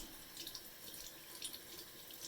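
Warm tap water runs steadily from a faucet into a sink while a Yu-Gi-Oh card is held under the stream, a soft continuous hiss with faint splashing, close by and alone.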